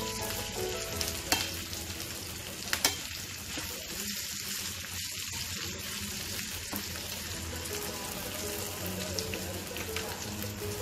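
Chopped potatoes sizzle steadily in a frying pan for South Indian aloo masala, with scraping stirs and a few sharp clicks over a continuous fry.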